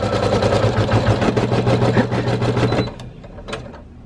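A sewing machine runs a placement stitch in a craft setting, a loud steady rapid mechanical whir with rhythmic needle pulses that stops abruptly near the end, followed by a few faint clicks.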